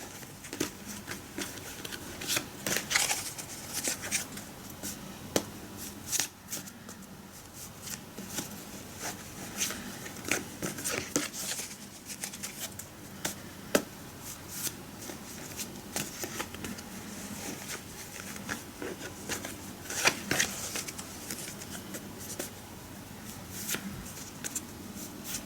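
Tarot cards are shuffled by hand close up, giving continuous soft riffling and flicking patter with occasional sharper snaps, no talk.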